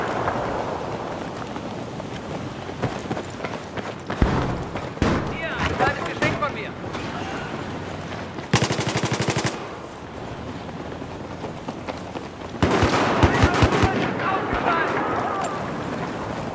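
Gunfire in Battlefield 4 on the Paracel Storm map, rapid bursts of automatic shots in clusters between quieter stretches, with someone talking over the battle noise.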